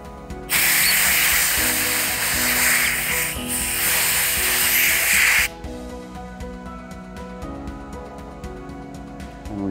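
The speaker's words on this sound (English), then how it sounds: "then we spray it clean" A loud continuous spray hisses for about five seconds as a 3D-printed part is sprayed clean after an IPA wash, then cuts off, leaving a steady mechanical hum with faint ticking.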